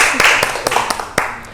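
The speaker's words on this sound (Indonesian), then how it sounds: "Tepuk tangan untuk kelompok." A classroom group applauds for a presenting team during a microteaching session, with scattered, loose claps that come in sharp separate beats and fade, over a noisy room with voices in the background.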